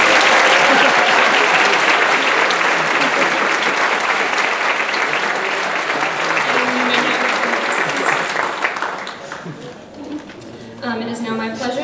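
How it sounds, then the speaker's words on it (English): A graduation celebration audience applauds loudly and steadily for about ten seconds before the clapping thins and fades, with a few voices and chatter emerging near the end. "So let's give one more round of applause for these balloons."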